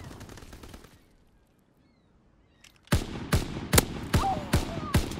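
Gunfire in the World War II shooter Call of Duty: WWII, a burst of about seven loud, sharp shots spaced roughly half a second apart, following a quiet stretch with low background murmur.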